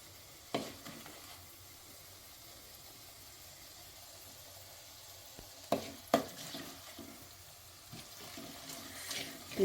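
Mango pickle masala with chili powder and asafoetida roasting in a pan: a faint, steady low sizzle with a few sharp spoon scrapes and stirs, quiet and close.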